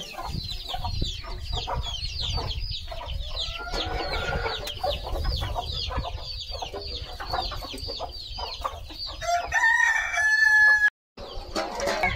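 A hen clucks steadily while a crowd of chicks peeps nonstop in high, rapid chirps, with a brief burst of louder squawking near the end.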